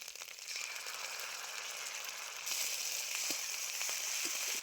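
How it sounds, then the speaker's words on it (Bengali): Spice paste hits a pan of onion, ginger and garlic already frying in oil, giving a steady close sizzle that swells louder and brighter partway through, with faint stirring clicks underneath. "আদা রসুন পেঁয়াজ খুব ভালো করে ভেজে নিয়েছি, এবার আমি দিয়ে দিচ্ছি বেটে রাখা মশলা"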